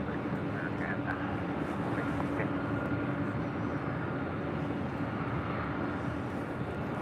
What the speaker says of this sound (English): That is United Airlines Flight 2095. That is the Dreamliner we saw land up here on the north side.